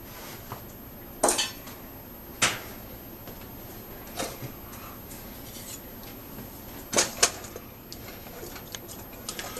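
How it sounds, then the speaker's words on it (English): Honey and butter are stirred in a pan while making honey roasted peanuts, with scattered clinks and knocks of a utensil against the pan over a low background, no voices. "Now put some of the butter, and we want to stir that up to mix it before we add our nuts"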